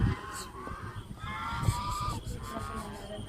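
Ducks at a goshala give several loud nasal honks and quacks at close range over a busy background, with a short burst of calls that then trails away.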